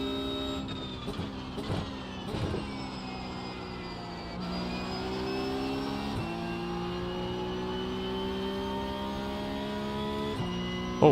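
A Ford Mustang GT4 race car engine in the iRacing video game drones steadily, with pitch climbing through gears and dropping at shifts, a few sharp downshift blips early on, heard fairly quietly without talk.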